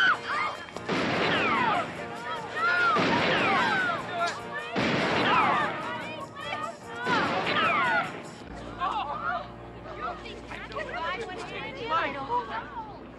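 Loud gunshots ring out in a TV comedy scene, several heavy bangs at irregular intervals in the first half, then people talking after the shooting stops.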